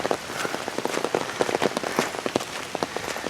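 Heavy rain pouring down during a hike, a dense continuous hiss broken by sharp, rapid drop impacts on nearby surfaces, loud and close throughout.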